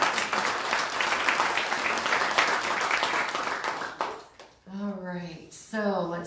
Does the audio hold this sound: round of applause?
yes